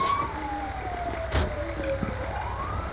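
An ambulance siren in the video game FivePD wails, sweeping slowly up and down in pitch over a steady engine-like rumble, with a brief thump near the middle.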